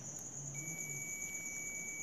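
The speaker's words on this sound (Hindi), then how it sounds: "अगर लगातार अगर बीप की साउंड सुनाई दे और जीरो जीरो शो होने लगा" Steady high-pitched continuity beep from a multimeter testing a ceiling fan's winding, a shorted coil giving an unbroken tone that holds for the whole stretch with a second tone joining partway, alone without talk.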